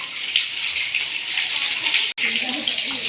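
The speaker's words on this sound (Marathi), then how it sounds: "पाण्याची सतत धार येते आहे." Water pours in a continuous stream from a cow-mouth spout at the ancient Pongejhara shrine. The rushing sound is steady and fairly loud, breaking off only for a split-second gap before resuming.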